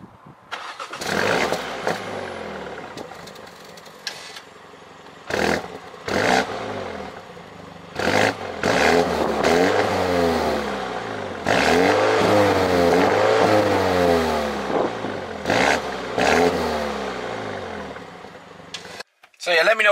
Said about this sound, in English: listen to how it sounds now, actually. I'll show you how it sounds